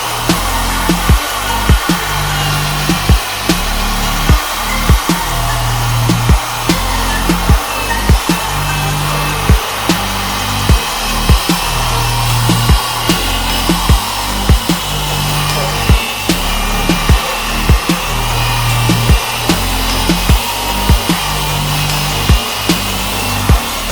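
A Pro Kleen wet vac runs steadily while cleaning the interior of a Ford Focus ST, a loud continuous motor drone broken by a regular series of short thumps and knocks throughout, with no talking.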